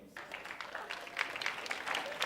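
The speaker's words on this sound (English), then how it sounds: "you can just do this with applause" A television studio audience applauds to vote for a contestant, producing a soft, steady patter of clapping that stays fairly distant and even throughout.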